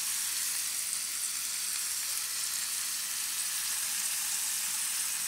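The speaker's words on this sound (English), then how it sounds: "Let those sear up on both sides." Marinated steak searing in a hot pan, a loud, continuous, even sizzle with no other sounds.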